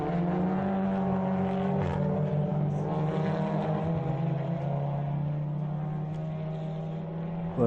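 Touring race cars including the Casal Motorsport Audi TCR lapping Slovakiaring in an endurance race, a droning engine note that shifts pitch through gear changes, steady and moderately distant.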